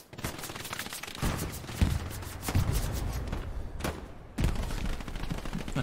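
Machine gun fire in the WWII shooter Hell Let Loose, a near-continuous stream of rapid bursts with loud cracks, brief pauses and renewed volleys over a rumbling battlefield background.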